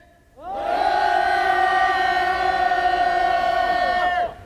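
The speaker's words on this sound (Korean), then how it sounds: "다시 한번 투쟁의 함성 3초 합시다" A crowd of striking union workers at a press conference lets out a sustained collective shout, a loud, unified roar that rises sharply, holds steady for about four seconds, then cuts off together.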